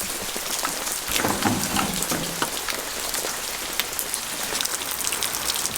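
Heavy October rain pours steadily outdoors at an abandoned stone house under renovation, a dense close hiss of drops hitting surfaces with no talking.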